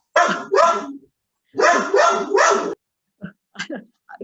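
A dog barks in two quick pairs of sharp woofs, then softer yips and grunts follow, heard close and alone during an online municipal historical commission meeting.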